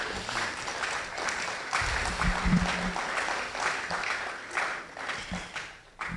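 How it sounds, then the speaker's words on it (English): An audience at a public lecture applauds, a dense, steady wash of many hands clapping in a hall that carries on for several seconds at moderate loudness before tapering slightly. "Another round of applause for Ambassador DK."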